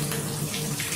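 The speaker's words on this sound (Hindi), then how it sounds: "पानी कितना कम आ रहा है, इनफैक्ट उतना ही आ रहा है जितना हमें चाहिए।" Water runs steadily from a kitchen tap through a water-saving nozzle in a short, continuous, close hiss with no talk.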